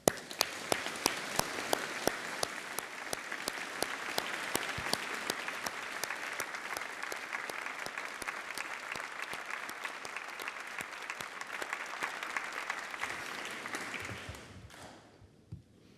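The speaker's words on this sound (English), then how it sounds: "we should take this opportunity to applaud them in recognition of their achievements" Graduation ceremony crowd applauding graduates in a large hall, sustained dense clapping with a few sharp individual claps, fading out near the end.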